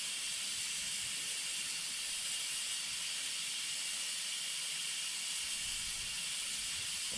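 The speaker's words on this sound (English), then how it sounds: "I'll keep releasing this" A steady, loud hiss of steam escaping under pressure from a pressure cooker on the stove, cooking lentils, continuous and unbroken, with faint low rumbling beneath.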